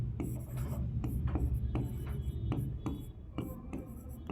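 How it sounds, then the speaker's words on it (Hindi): A teacher writes on a board during a lesson: steady scratching strokes repeat in a regular rhythm over a constant room hum, and there is little or no talking. "यहाँ पे मैं लिखता हूँ"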